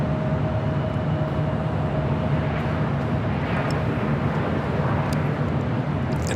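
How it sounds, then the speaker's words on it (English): An Airbus A330 moves at Los Angeles International Airport, a loud, dense jet rumble with a faint steady whine that stays even throughout, with no talking. "that A330 heading to the south side"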